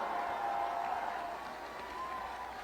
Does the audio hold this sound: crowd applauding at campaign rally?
yes